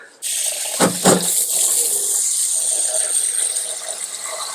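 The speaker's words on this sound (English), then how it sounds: "I'm gonna wash this rice" Rice being washed in running water, with a tap gushing steadily into a sink after a couple of knocks and splashes at the start.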